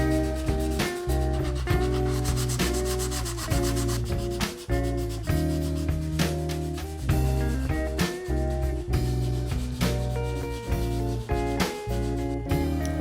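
Sandpaper wrapped around a file scrubs the divots of a 3D printed Mandalorian helmet, a close, steady run of rhythmic rasping strokes repeating back and forth without pause.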